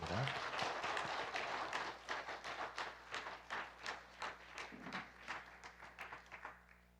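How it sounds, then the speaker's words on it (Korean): A church congregation at an Easter service applauding the choir, a full wash of clapping from many hands that fades into a slower run of rhythmic claps before trailing off, distant and reverberant. "다시 한번 수고한 우리 공찬단에게 격려의 박수"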